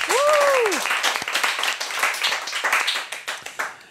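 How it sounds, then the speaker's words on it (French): A studio audience applauds a guest on a game show, a dense patter of many hands that starts loud and gradually thins out, with a short whoop or cheer at the start. "On peut applaudir Maître Connard qui est avec nous aujourd'hui."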